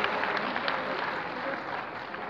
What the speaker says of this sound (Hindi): भरपूर तालियां अरशद बादी के लिए